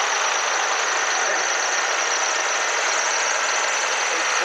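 A restored vintage tractor engine runs steadily at an outdoor vintage rally, giving a continuous, even, close-up mechanical drone with no breaks over the whole stretch.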